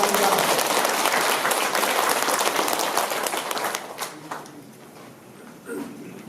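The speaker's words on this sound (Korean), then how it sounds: "우리 모두 하나님께 감사의 박수를 보내주시기 바랍니다." A congregation applauds at a Korean church worship service praying for national unification, loud dense clapping that holds steady for about four seconds and then thins out to a few scattered claps.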